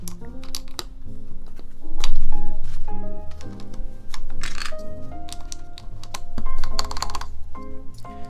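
Fast, steady keystrokes clatter on a Zeus TKL prototype keyboard fitted with GMK keycaps, loud and close, in bursts of continuous typing without pause.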